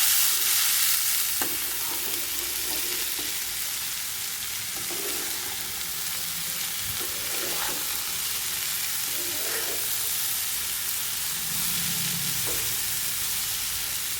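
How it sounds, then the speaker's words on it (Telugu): Pieces of spiny gourd (kakarakaya) frying slowly in a pan give a constant close sizzle and hiss. The utensil scrapes and stirs now and then, and no one speaks. "చూసుకొని నిదానంగా వేయించుకోవాలి."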